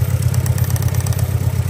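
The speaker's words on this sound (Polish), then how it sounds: "Na jednym cylindrze pracuje." Car engine idling while firing on only one cylinder, a loud, close, uneven low chugging with a steady rhythmic throb and clattery overtones.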